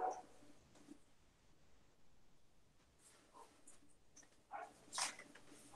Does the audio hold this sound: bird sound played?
no